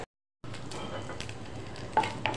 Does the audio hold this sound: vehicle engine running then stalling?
no